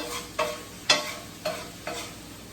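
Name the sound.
chicken fried rice being pushed aside in pan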